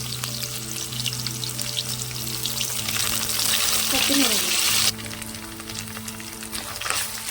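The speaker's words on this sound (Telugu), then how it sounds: "కొత్తిమీర, ఉల్లిగడ్డ, పచ్చిమిర్చి బాగా వేగాయండి" Coriander, onion and green chillies fry in a pan for chicken curry, a strong continuous sizzle that swells louder midway then drops, with a steady low hum underneath.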